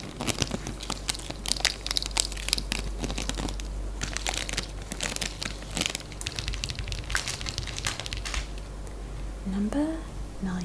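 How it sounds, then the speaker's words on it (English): Plastic packaging from a spicy instant noodle pack crinkles and crunches in quick, irregular bursts of crackling, close and loud, with a soft voice speaking briefly near the end. "The package is really, really crunchy and crispy and crackly,"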